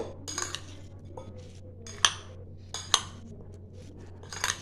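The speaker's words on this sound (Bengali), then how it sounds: "এটা ভালো করে আমি মেখে নেব।" A spoon mixes guava makha in a bowl, giving a few scattered metallic clinks and scrapes against the dish, close and fairly quiet, with no talking.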